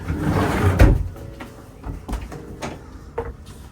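A door on a 1990s yacht slides or swings open with a rumbling scrape, followed by a few lighter knocks and clicks of handling nearby.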